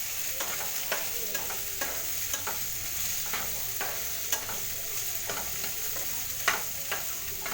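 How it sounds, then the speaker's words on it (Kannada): Cooked lentils are stirred in a hot frying pan, a spoon scraping in a steady rhythm of soft clacks over a continuous sizzle, close and clear with no talking. "ಬನ್ನಿ ಮಿಕ್ಸ್ ಮಾಡೋಣ."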